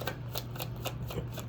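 Tarot cards being shuffled during a card reading: a quick series of soft, rhythmic riffling flicks, close and quiet, over a steady low hum.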